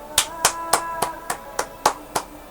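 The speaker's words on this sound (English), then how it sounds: "Don't clap." Eight hand claps in a steady, even rhythm, close and crisp, with nothing else sounding between them.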